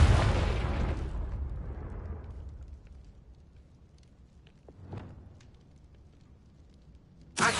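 A Confringo fire spell cast in Hogwarts Legacy bursts with a loud, roaring blast that fades over about a second, followed by a few fainter pops and a sharp final crack, with no talking.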